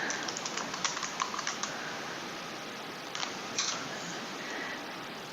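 Keyboard typing as a note is entered into inventory software, a quick run of light key clicks in the first second and a half, then a pause and a few more taps, close and clear over a steady background hum.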